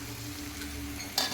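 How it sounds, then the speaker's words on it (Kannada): Onions sizzling in hot coconut oil for a tempering, a steady close frying hiss with a brief sharper crackle near the end. "ಈರುಳ್ಳಿ ಒಗ್ಗರಣೆ ಮಾಡ್ತಾಯಿದ್ದೀನಿ"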